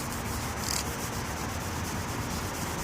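A yellowed car headlight lens being rubbed with a wax and baking soda solution, a continuous close scrubbing hiss with a steady, even texture and no talking.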